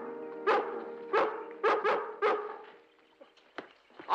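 A collie barks outdoors in a rough, stubbly field, four or five sharp close barks in a quick run, followed by softer, scattered yips and whimpers.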